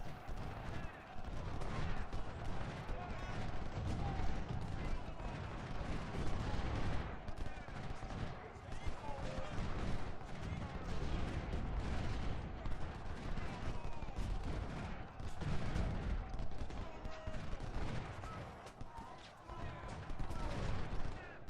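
Artillery and musket fire in the Civil War strategy game Ultimate General: Civil War at First Bull Run, a dense, continuous crackle of volleys and cannon booms rolling on without pause.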